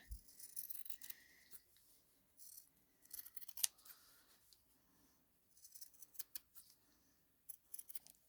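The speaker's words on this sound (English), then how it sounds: "I've just cut the basic shape there" Scissors snipping out the basic square shape of a fabric gift tag, quiet crisp cuts coming in short clusters with pauses between them, close by.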